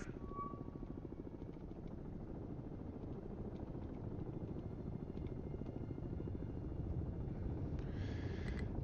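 A helicopter in the submarine game Cold Waters, a steady low rotor drone that holds loud and even throughout, with a faint higher whine near the end.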